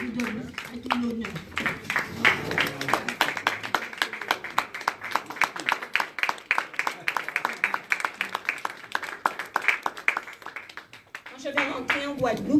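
A standing audience claps steadily for several seconds in a hall, a dense rhythmic patter of many hands, with voices talking briefly at the start and again as the applause fades near the end.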